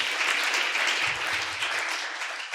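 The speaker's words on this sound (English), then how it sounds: "A clap for her as well, please." An audience at an investment forum on longevity claps for a co-founder of the Longevity Forum, a dense, continuous burst of applause that is fairly loud and close and lasts a couple of seconds.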